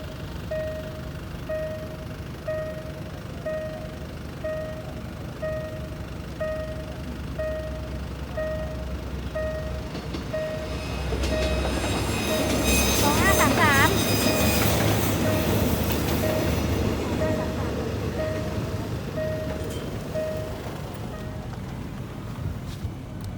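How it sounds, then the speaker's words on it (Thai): A Daewoo diesel railcar rumbles past a level crossing, rising to a loud peak midway with squealing wheels, while the crossing bell dings steadily throughout. "วันนี้ได้เป็นขบวนหนึ่งหนึ่งหนึ่งเป็นดีเซลรางแดวูนะครับ"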